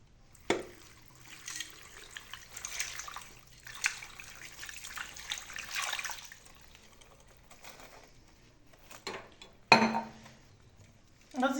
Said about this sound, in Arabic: بعد ما درناه في الكوكوط غادي نديرو فيه اطرة الماء.